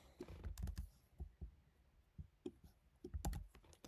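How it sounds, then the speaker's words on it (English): Typing on a computer keyboard while writing C# code: faint, close bursts of clicky keystrokes in irregular clusters with short pauses between them, alone with no talk. "I don't know why I'm typing this all out."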